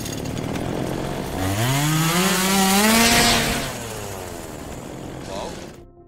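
A chainsaw revs up during a zombie-film scene: its motor whine climbs steeply in pitch, holds loud and close at a high buzzing drone, then drops back to a rougher idle before cutting off.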